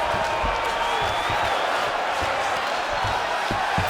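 A dense, steady roar of an arena crowd in the EA Sports UFC 5 fighting game, with a continuous wash of cheering and scattered thumps throughout and no break in the noise.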